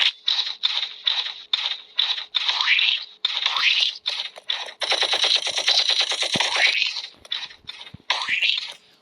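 Bursts of rapid automatic machine-gun fire in a video game rattle in quick succession, sharp and loud, with short pauses between volleys and one long sustained stretch of firing.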